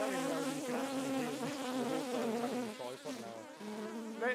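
Swarm of honeybees from a tiny colony in a bird box buzzing loudly and continuously right against the microphone, a dense wavering drone with many overlapping wingbeats close up.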